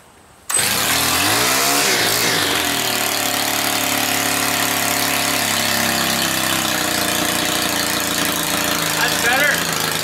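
A small engine fitted with a Stihl carburetor starts abruptly after a carburetor adjustment, then runs steadily at a fairly high idle with a buzzing mechanical drone and a slight wavering in pitch, heard up close and loud.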